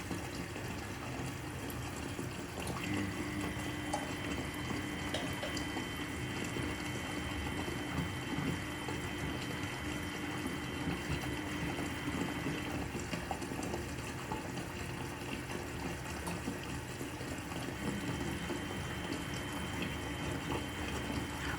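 A Miele W830 washing machine fills with water for a high-level rinse, a steady low rushing and trickling flow that continues evenly and fairly quietly for over twenty seconds with no voices.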